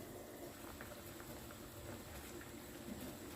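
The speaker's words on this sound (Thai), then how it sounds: "ก็ต้มไปเรื่อย ๆ ค่ะ จนกว่าให้เห็ดสุกก่อนค่ะ" Mushrooms boiling in a canned-fish tom yum soup, a soft, steady bubbling simmer with faint liquid pops, continuous and fairly quiet, with no voices.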